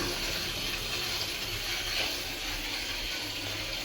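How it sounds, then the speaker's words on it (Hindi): Water runs steadily from a household tap just turned on, a continuous broadband hiss and splash with a faint mechanical rattle underneath, close and fairly loud throughout with no talking. "ये यूँ कर दूंगा तो बंद पानी, और यूँ कर दिया तो पानी शुरू"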